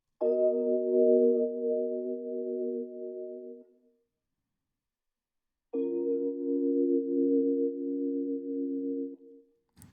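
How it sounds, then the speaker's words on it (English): RnB sample with a short reverb at a modest dry-to-wet mix: two sustained chord swells that fade out gently, separated by a pause, heard clearly with no voices. "Then we added a short reverb with a fairly modest dry to wet signal"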